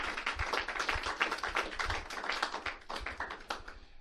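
Audience applause after a professional pool tour final in Newport, a dense, steady clapping from a crowd that carries on throughout at moderate volume, heard alone with no talking.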